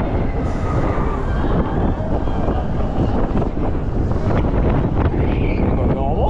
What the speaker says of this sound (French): le vent il est cinglant